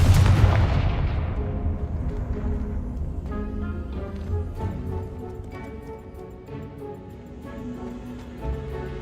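Fiery blasting spell cast in the Hogwarts Legacy video game, a single sharp explosive boom that decays into a crackling, ringing tail, with faint game sounds continuing afterward.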